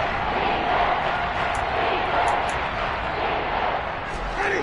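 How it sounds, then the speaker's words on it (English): A football stadium crowd roars steadily ahead of a big third down, a loud, dense wash of cheering voices that holds without pause, distant and broad. "the crowd getting into it as we come up on a big third down"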